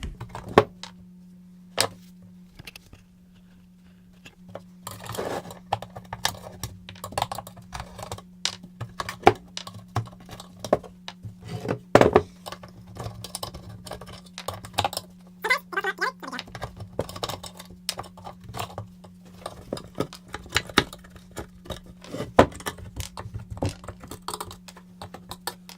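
Rubber grommets being pulled one by one from a car valve cover, giving scattered small rubbery clicks and ticks, close up, over a steady low hum with no talking.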